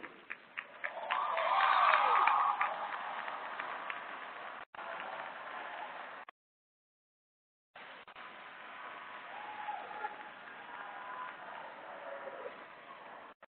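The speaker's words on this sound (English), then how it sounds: "I want you to give salute and applaud all of the people" Audience applause at a 2017 law school commencement ceremony, a large crowd clapping in a broad, moderately distant wash that swells early and then settles, broken by a short silent gap before fainter clapping resumes.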